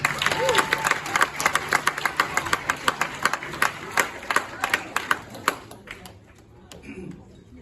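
A room of people giving a round of applause for the hosts at a priest's leaving speeches, dense clapping that thins to scattered claps and fades out, with a brief voice nearby.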